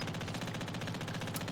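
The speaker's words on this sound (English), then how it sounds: "This is max Splatling Barrage and how long it takes for the charge to run out and stuff." Splatling Barrage special firing in Splatoon 3, a steady rapid stream of repeated shots pulsing evenly at moderate loudness without pause.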